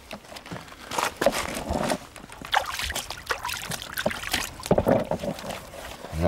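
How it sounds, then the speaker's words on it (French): A little water splashes and trickles into red-dyed fishing groundbait, followed by wet mixing and churning sounds. The sound is close and moderately loud, and there is no talking. "on mouille l'amorce comme si elle n'avait pas de colorant, tout simplement. Alors un petit peu d'eau."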